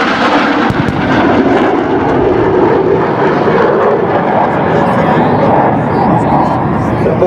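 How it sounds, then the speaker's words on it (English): F-18 Hornet jets roar in for a bombing run during a Marine Corps airshow demonstration, a loud, sustained, broadband engine rumble that fills the whole stretch, with an announcer's voice over it. "To your right, the F-18 Hornets are coming in for another bombing."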